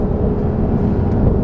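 Cabin of a BMW F30 with a turbocharged engine, its exhaust a steady low rumbling drone heard from inside the car, continuous and fairly loud without distinct pops in this moment.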